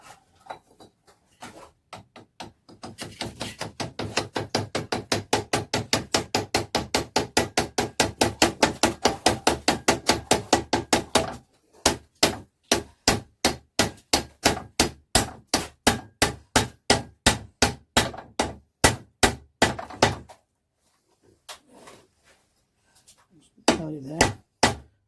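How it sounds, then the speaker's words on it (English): A small plastic hammer taps a part onto the end of a fitting on a Harley-Davidson Night Train being cut down into a chopper. The knocks come close and sharp in long, rapid, evenly spaced runs, with brief pauses between bursts. "knock that on the end of there with the little plastic hammer"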